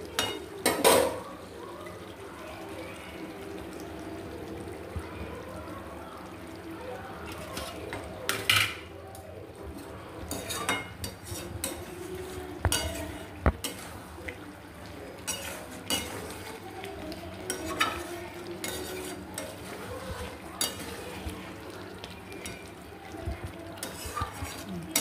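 A spoon stirs chicken mumtaz curry in a pan just after the spiced tempering goes in. It makes a steady soft sizzle with scattered scrapes and metallic clinks against the pan, close by and without talk.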